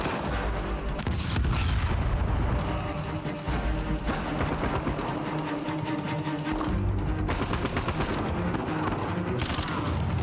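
Gunfire in the Uncharted 4 video game, a constant heavy barrage of shots and blasts that fills the whole stretch, loud and dense with almost no letup.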